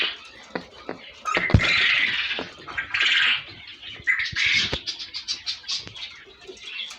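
Quails in a spacious quail coop give off repeated chirps and short calls, some close and loud, others softer, scattered across the clip with no speech.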